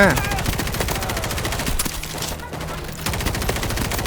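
Video game gunfire against zombies in World War Z, dense rapid automatic bursts crackling steadily and loudly, with a brief lull midway before the shooting resumes, under other combat noise.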